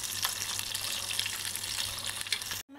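Chicken pieces frying in hot oil give a steady, dense crackling sizzle with scattered pops, close and loud, running unbroken before cutting off abruptly at the end.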